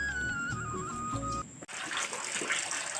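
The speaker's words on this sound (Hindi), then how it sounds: "पानी आ रहा है बेटा।" Water starts running from a tap midway, a close, hissing, splashing flow that follows a stretch of tonal, humming sounds and then continues steadily.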